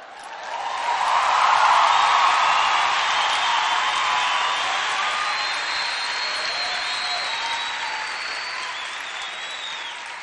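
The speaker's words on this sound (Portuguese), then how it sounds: "Você está aplaudindo" A large church youth-conference audience applauds steadily, a dense wash of clapping that swells early and then gradually tapers, with a few faint whoops.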